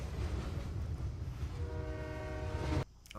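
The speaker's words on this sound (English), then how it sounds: "Then the episode ends with a faint sound of a train approaching, getting louder" A train in a kids' show approaches, its rumble and clatter swelling louder with a rising horn tone before an abrupt cut to near silence.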